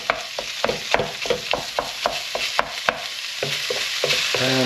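Minced meat sizzling steadily in a frying pan while a utensil breaks it up, with a regular run of sharp scraping, tapping strokes over the continuous hiss, close and fairly loud, no talking.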